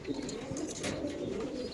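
Racer pigeon chicks cooing inside a cage at a pigeon farm, soft low murmuring coos over steady background noise, close and fairly faint, with no talking.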